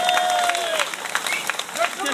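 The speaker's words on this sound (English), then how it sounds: "give yourselves a round of applause and a pat on the back" A crowd at an outdoor political speech in Redditch breaks into applause, a dense sustained clatter of many hands clapping close by with a few voices and whistles mixed in.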